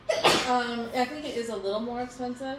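One brief, abrupt sneeze bursts out near the start, then a person keeps talking in a conversation.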